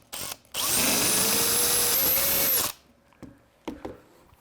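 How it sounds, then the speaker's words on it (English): A power drill boring a hole for a rivet during top frame assembly, one loud steady whine of about two seconds close by, with a brief burst before it and light tool clatter afterwards. "let's line it up and drill in"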